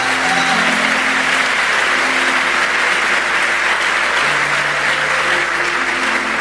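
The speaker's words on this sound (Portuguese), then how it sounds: "Aplauda Jesus aí." Steady, dense applause from a church congregation during a Portuguese-language sermon, continuous and fairly loud throughout, with faint tonal hum underneath.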